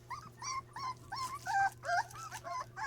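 Corgi puppies whimpering and yipping in a steady run of short, high, close calls with brief gaps, against a quiet steady hum.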